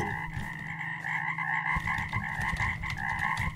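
A frog croaks in a fishing horror video game, a loud, close run of rapid rasping croaks repeating steadily with no talk.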